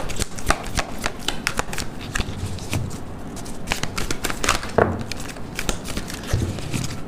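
Tarot cards are shuffled close up in quick, papery riffles and flicks that repeat steadily, with occasional louder snaps as cards are handled.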